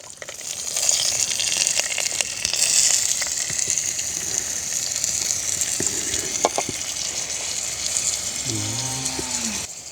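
Chopped onions frying in hot oil for a village-style Sri Lankan otti fish curry, a steady bright sizzle throughout with occasional clinks and a low bellowing animal sound near the end.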